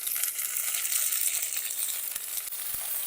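Capsicum stir-fries with garlic in a hot pan for egg chowmein, giving a loud, dense, hissing sizzle up close with a few soft stirring knocks.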